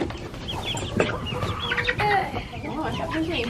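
Buff Orpington chickens clucking loudly and repeatedly at close range, with squawks and bursts of calls overlapping, while people talk quietly nearby.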